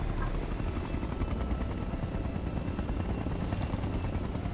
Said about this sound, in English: As soon as you kill the last one, 2 helicopters will arrive